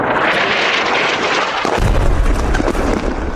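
Air strike explosions in central Gaza: a broad, rumbling roar that swells into a heavy low boom partway through, loud and continuous with no talk.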